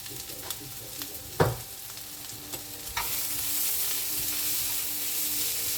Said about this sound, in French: Je vais laisser encore cuire parce que les poivrons ils sont pas cuits.